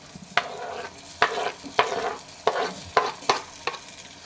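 Tomato frying with mustard seeds in a pan, a low sizzle broken by a run of distinct scraping stirs at an uneven rhythm, close and without speech.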